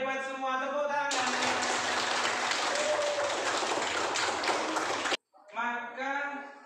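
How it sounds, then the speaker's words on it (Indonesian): Schoolchildren in a classroom clap their hands together in a dense burst of rapid claps lasting about four seconds, with a teacher's voice talking before and after. "Kalian hebat semua, tepuk tangan."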